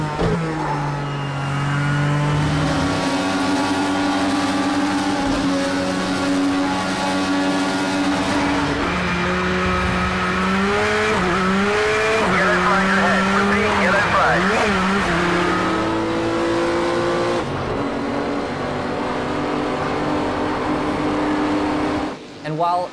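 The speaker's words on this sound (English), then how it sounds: "The tire screeching sound is terrible." Loud racing car engines in the video game Project Cars 2 rev and whine through gear shifts, pitch rising and falling, with a sharp tire-screeching stretch in the middle; a voice talks over it.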